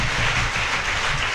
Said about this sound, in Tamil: அதுக்காக எங்கள் தலைவர் ஏடிஎஸ் கோபி அண்ணா அவர்களுக்கு ஒரு பலத்த கரகோஷம்